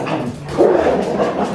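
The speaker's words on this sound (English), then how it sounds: "I do apologise, that's my dog" A pet dog barks and whimpers in a home kitchen during baking, a close, continuous burst of yelps and bow-wows lasting over a second.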